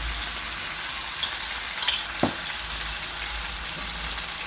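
Canned fish stir-frying with Chinese kale in a hot pan, a dense continuous sizzle with a few faint scrapes and taps, close and steady, no voices.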